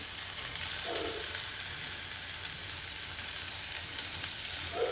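Fenugreek powder frying in a pan for a brinjal chutney, a steady close sizzle running the whole time with a couple of faint stirring scrapes, no voices.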